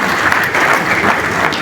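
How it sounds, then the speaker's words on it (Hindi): Hall audience at an event at the NMDC Convention Center in New Delhi gives the organisers a burst of loud, steady clapping, a dense continuous patter filling the short moment. "उनको एक बार जोरदार ताली से स्वागत करेंगे"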